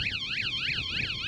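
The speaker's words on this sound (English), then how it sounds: "it'll give him a warning beep." Van alarm warning beep, a loud, close, rapidly warbling electronic tone sweeping up and down in quick repeated cycles, sounding alone.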